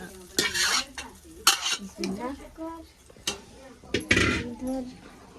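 Cumin seeds go into a hot pan on a gas stove and get stirred: scraping strokes and metal clinks come close up over a soft sizzle, with occasional louder bursts as the spoon moves.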